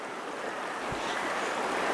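River water flows in a steady, even rush of broadband noise, fairly close, with a faint low thump partway through and no voices.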